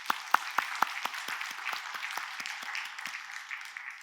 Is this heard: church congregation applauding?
yes